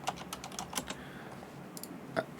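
Light, rapid typing on a computer keyboard, with soft irregular keystrokes clustered in quick bursts, quiet and close, and no talking over it.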